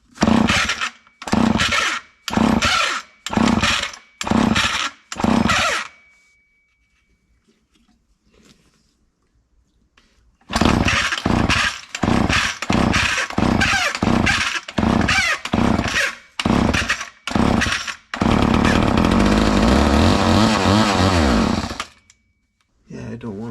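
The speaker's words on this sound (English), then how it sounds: "I'm gonna try keeping the choke on here, just pulling away." A Poulan Super 25DA chainsaw with its choke on is pulled repeatedly in loud, rhythmic starter tugs, then goes quiet, then takes another series of pulls before the engine catches and runs loudly for several seconds.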